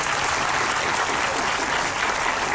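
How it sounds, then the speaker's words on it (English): A crowd claps steadily and loudly, a dense wash of applause that holds for a few seconds without letup. "And then one final applause, Mrs. Rachel Thomas"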